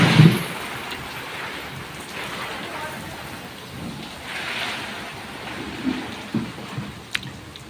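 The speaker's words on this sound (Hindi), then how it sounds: "सामने वाला घर भी नहीं दिख रहा, इतनी तेज तूफान आ रहा है।" Heavy rain pours steadily in a strong storm with gusting wind, loud and close, with scattered thumps and knocks against the surroundings and no talk.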